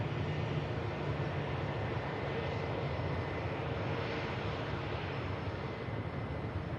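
A Boeing 737 arriving from Cork and landing at Manchester Airport, a steady broad jet-engine roar held at an even level throughout, heard from a distance with no talking.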